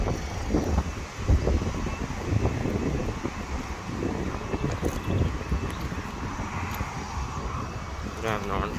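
Wind gusts buffet the microphone at a road level crossing, a low rumbling roar that rises and falls unevenly throughout, with some faint background noise beneath it.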